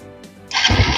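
A Honda CB 150F motorcycle engine cranks briefly and then catches, rising into a loud, steady idle close by.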